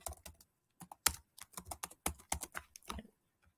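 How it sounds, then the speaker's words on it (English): Typing on a computer keyboard while working in Google Docs, a quick irregular run of crisp key clicks with short pauses between bursts, close and alone with no talking. "you type whatever you need to put up there"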